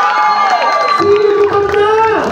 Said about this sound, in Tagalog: Isa muna malakas sa palakpakan ng kasamang hiyawan!